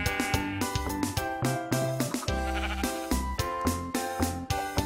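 Sheep on a Minecraft ranch bleating in quick succession, a string of loud, close, wavering baas layered over background music.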